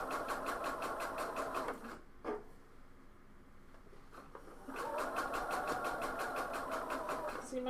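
Home sewing machine stitching a coat's neck edge, running at a slow, even pace in two bursts of rapid mechanical ticking with a short quiet pause between them, heard close up.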